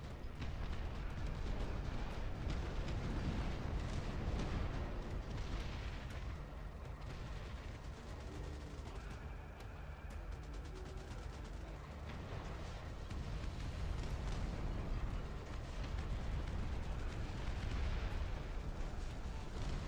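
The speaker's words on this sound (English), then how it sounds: "so now it's a siege howitzer instead" A siege howitzer fires in a video game, giving a dense, continuous barrage of heavy booms and rumbling blasts that stays loud throughout with no clear pauses.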